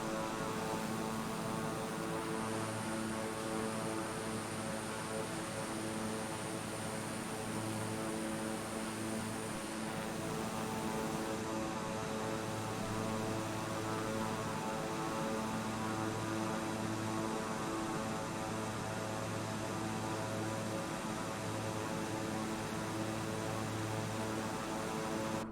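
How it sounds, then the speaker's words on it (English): A steady turboprop drone comes from an OV-10 Bronco with a PT6 engine in Microsoft Flight Simulator, a constant propeller hum and whine held without break for the whole stretch, with no talk. "they're very borrowed PT6 sounds, but they'll do the job"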